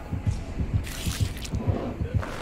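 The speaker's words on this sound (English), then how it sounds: "I heard the heart beating" A game heartbeat thumps in a slow, regular double-beat rhythm, low and close, repeating steadily with a brief hiss of other sound in the middle.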